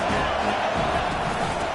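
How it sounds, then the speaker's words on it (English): A football stadium crowd roars in a broad, steady wash of noise at a college game, continuous and loud, with faint cheering mixed in. "This crowd trying to make life miserable for this offense."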